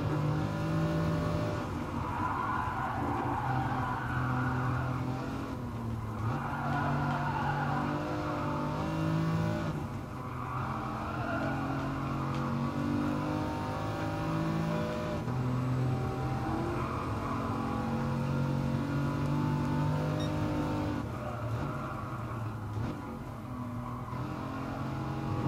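A race car in Gran Turismo Sport accelerates hard out of a corner, its engine droning steadily through repeated gear-driven pitch climbs over a long, continuous stretch, with faint tire noise beneath.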